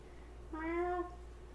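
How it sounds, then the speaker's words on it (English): A single short cat meow, fairly close and clear, rising then falling over quiet room background. "If I don't pick him up, he's gonna keep meowing."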